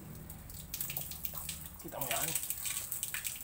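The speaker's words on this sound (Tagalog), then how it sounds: "Buksan natin ang tubig." Water from a household shower splashing and running, a steady hiss that builds and grows louder partway through, with a person talking over it.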